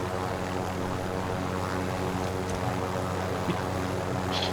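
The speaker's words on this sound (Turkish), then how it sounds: "Çevir helikopteri." A helicopter flying in Call of Duty Modern Warfare gives off a constant, dense engine and rotor drone that stays steady and loud throughout, with no talking over it.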